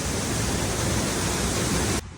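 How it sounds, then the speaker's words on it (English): A waterfall pours down against a rock wall and into a small cave tunnel on a mountain trail, a loud, steady roar of rushing water that cuts off abruptly near the end. "The water comes down here, hits this wall, and then goes into that cave"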